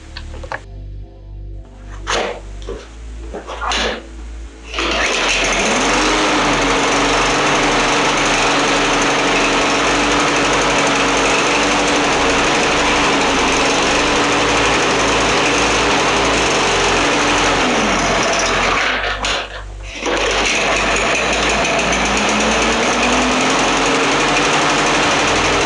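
A newer Briggs lawnmower engine with a plastic carburetor, just repaired, sputters a few times, then catches and runs at a steady loud drone, briefly dipping before picking back up.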